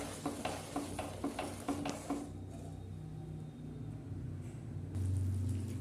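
Gravy with Kashmiri chilli powder and salt is stirred in a pan, making a series of quick rhythmic scraping strokes over a low sizzle, then quieter simmering, close and without voices.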